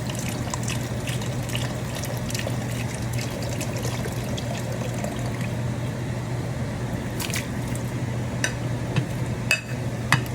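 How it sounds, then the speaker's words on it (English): A whole carton of beef broth poured into a pot of country style ribs, a steady liquid trickle and splash running throughout with faint kitchen clatter near the end. "Now we need a whole carton of beef broth."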